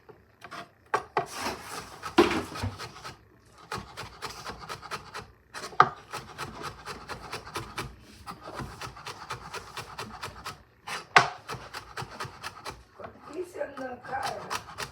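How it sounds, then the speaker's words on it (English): An onion is chopped finely on a cutting board, with quick, irregular knife taps and scrapes at close range, a few louder knocks and a faint background voice. "I try to chop them as small as I can."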